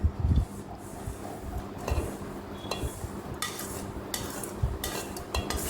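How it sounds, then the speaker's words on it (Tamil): Cumin seeds are dry-roasted in a pan for sambar powder while a spoon stirs them, giving scraping strokes with occasional sharp metal clinks against the pan. A couple of low knocks come near the start and near the end. "ஜீரகம் டக்குன்னே பொரிஞ்சிரும், அதனால லைட்டாக வறுத்துட்டு எடுத்துக்கோங்க"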